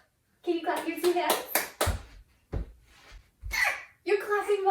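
A toddler claps their hands during a yoga animal game: a few sharp, separate claps land among the talk of an adult and a child.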